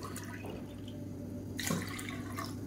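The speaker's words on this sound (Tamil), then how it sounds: "இதில் 2 டம்ளர் அளவுக்கு தண்ணி சேர்த்துக்கலாம்." About two tumblers of water are poured into a saucepan for a horse gram (kollu) soup: a faint, steady trickle that swells into a fuller splash near the end, with no talking.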